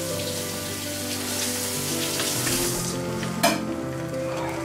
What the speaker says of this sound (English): let me just rinse this out real quick